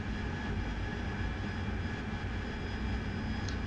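An AV-8B Harrier jet flies low through valleys in the DCS flight simulator, its engine a steady, full roar with a broad rumble, continuous and even throughout.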